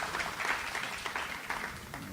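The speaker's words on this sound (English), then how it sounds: "I'd just like you to give yourselves a round of applause" An audience at an employee engagement talk in Jamaica claps for itself, a continuous, moderately loud patter of many hands with uneven swells, heard without any voices.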